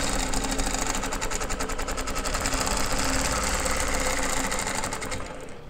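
A quilting machine stitches along a wave-shaped quilting ruler, a fast continuous mechanical hum and rapid needle chatter running steadily and loud up close before slowing at the end, with no voices.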